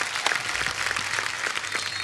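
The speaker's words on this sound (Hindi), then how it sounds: "जोरदार तालियां दिव्या और दर्शन के लिए।" A television comedy show's studio audience applauding, a dense even patter of many hands clapping at moderate level with no voices.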